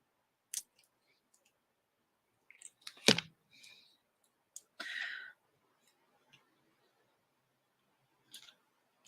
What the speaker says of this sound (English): might still need to cut it.